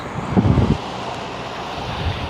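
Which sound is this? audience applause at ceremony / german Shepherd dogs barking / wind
wind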